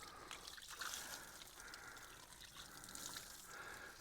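Water poured onto a freshly sawn soft maple board from a wind-damaged red maple at a sawmill, a steady faint trickling splash lasting several seconds with no voices.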